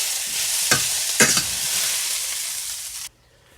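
A spoon stirs yams frying with black pepper and oregano in a pan, a steady close sizzle with two sharper scraping stirs, before the sound cuts off abruptly near the end.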